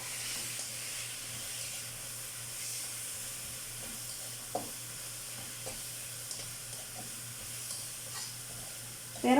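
Chicken pieces sizzle in a pan of softened sautéed tomatoes for tinola, a steady low frying hiss with occasional faint stirring clicks and no talking.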